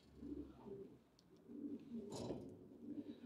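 Pigeons cooing softly in a loft, a few low, rolling coos repeating close by with a faint rustle between them.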